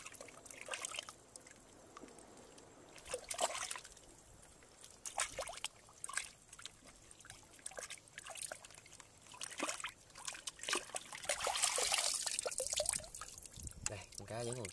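Freshly caught fish, still alive and already gutted, being rinsed with seawater at night after a spearfishing dive off Con Dao: splashing pours and trickles that build louder toward the end, with people talking over it.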